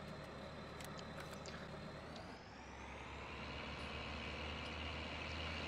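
Case Maxxum 5150 tractor engine in Farming Simulator 19, a steady droning hum with a faint whine, holding an even level throughout with no talk over it.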